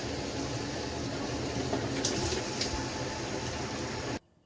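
City water from a hookup rushes steadily into an RV with a household rain shower head, a constant close hiss of flowing water that cuts off abruptly near the end.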